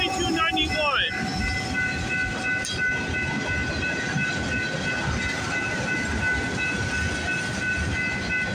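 A CPKC freight train rumbles past steadily for several seconds at night, with a brief high squeal or whistle near the start, then continuous rolling noise.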